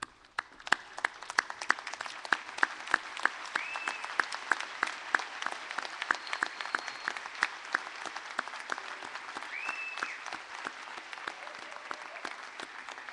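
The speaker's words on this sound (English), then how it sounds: "let's all stand and give these new graduates a round of applause" Audience applause for new graduates at a 2012 commencement ceremony, steady dense clapping from a large crowd sustained throughout, with sharper individual claps standing out near the front and no speech.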